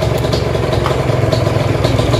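A Yamaha TZM motorcycle idles in a parking area, its small engine giving a steady, close, rapid puttering with a light mechanical clatter throughout, no voices.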